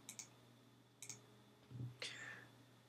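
A computer mouse clicks on an elevation marker in Revit software. Soft clicks come in quick pairs, then a single tap follows, all faint over a low steady hum.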